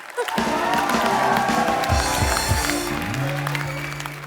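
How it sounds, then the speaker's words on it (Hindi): Studio audience applause for Kajol on a television comedy show, a loud sustained wash of clapping and cheering, with a few whoops over it and a voice speaking through the middle. "एक बार काजल जी के लिए जोरदार तालियां"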